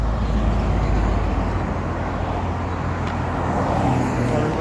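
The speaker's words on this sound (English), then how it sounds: "That's Tuesday morning traffic on Rupert Craig Highway." Tuesday morning traffic rolls along Rupert Craig Highway toward Georgetown near the Atlantic coast, heard as a steady, loud wash of cars and heavier vehicles with a constant low rumble.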